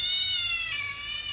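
A cat lets out a long, drawn-out meow that wavers and bends in pitch, loud and close, alone without any talking.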